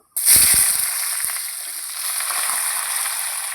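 Potato pieces drop into hot oil seasoned with dried red chilli and black cumin, giving a sudden loud burst of sizzling that settles into steady, close frying hiss, with a few clinks at first.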